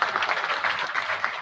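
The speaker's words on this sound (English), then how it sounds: "Could we again give them a round of applause?" Audience applause at an international investment conference in Kisumu, a steady wash of clapping from a large hall that holds evenly through the whole short burst with no voices on top.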